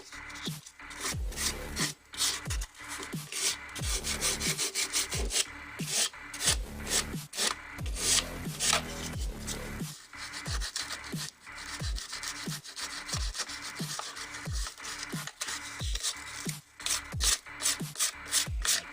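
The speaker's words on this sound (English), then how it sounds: "It sands real easy." Sandable filler being sanded by hand on a model of the Stardust Explorer starship, a close, rhythmic series of rasping back-and-forth strokes that repeat steadily with brief pauses and no speech.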